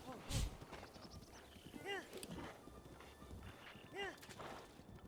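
A horse galloping in The Legend of Zelda: Breath of the Wild, its rhythmic hoofbeats mixed with a few sharp neighs and game sounds, while someone talks over it.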